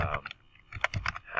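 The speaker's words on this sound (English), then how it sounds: "And I can type in workplace" Typing on a computer keyboard while filling in a PDF form, with irregular bursts of close key clicks and short pauses between words, no voices.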